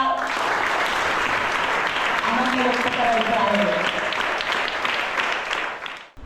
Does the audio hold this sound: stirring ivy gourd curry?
no